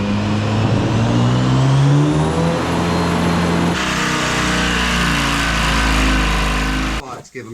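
A truck engine revving hard to pull a trailer off a sold Diamond T rolling chassis, beside a Detroit 2-53 diesel, rising in pitch, then dropping to a heavy, loud low drone before cutting off abruptly near the end.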